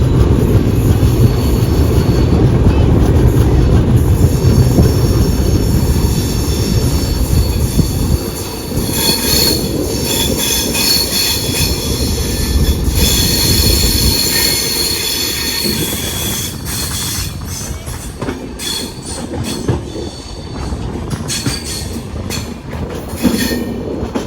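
The Sri Ganganagar Humsafar Express runs on its journey from Trichy to Pune, heard loud and close. Wheels rumble steadily and a high metallic squeal carries through much of it, with rattling carriage noise as the roar eases later.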